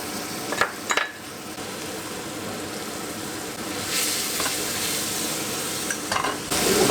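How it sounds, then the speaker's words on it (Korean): Garlic sizzles in leftover oil in a pan just after searing beef, a loud continuous close frying hiss with a few brief stirring scrapes and clinks. "남은 오일에 마늘을 넣어줍니다."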